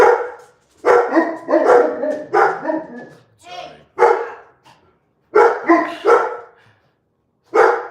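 Several household dogs bark in a kitchen during lasagna making, loud sharp barks coming in repeated bursts with short pauses, close to the microphone, with some whimpering yips mixed in.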